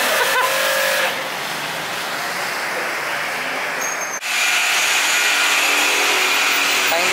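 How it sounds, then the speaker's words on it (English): Buffing machine polishing motorcycle paint whirs with a steady, loud motor whine, dipping briefly once as the pad lifts off and then spinning back up. "As you can see, the buffing process has begun."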